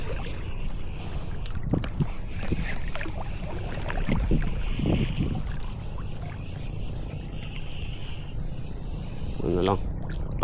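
The amihan northeast monsoon wind blows at sea during a fishing trip, a steady loud rush buffeting the microphone, with water sloshing around the boat and brief voices.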